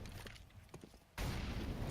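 Rifle spray in Counter-Strike on the Inferno map, faint rapid shots at first, then a sudden loud burst of close gunfire that continues to the end.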